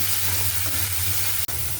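Onion paste sizzles and fries steadily in a pan alongside salt and garlic paste for a dried fish dish, a close, continuous hiss with one brief dropout near the end.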